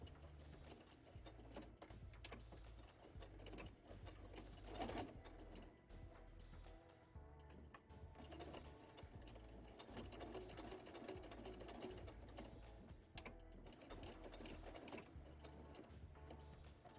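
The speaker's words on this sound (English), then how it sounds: "And then we just keep sewing right there." A sewing machine stitches bias tape in a continuous, fairly quiet, rhythmic mechanical hum with a faint repeating thump, running steadily throughout with only brief dips.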